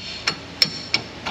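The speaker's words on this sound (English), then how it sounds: "U-bolt hammer." Four sharp metallic hammer blows ring out at an even pace on the suspension U-bolts of a 2021 Toyota Tacoma truck, each strike close and distinct with a short ringing decay.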